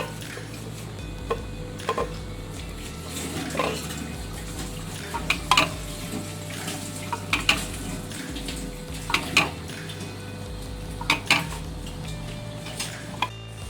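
Finely chopped onions fry in oil in a pot, a steady sizzle broken by sharp metallic clinks and scrapes of a spoon stirring against the pot at irregular intervals.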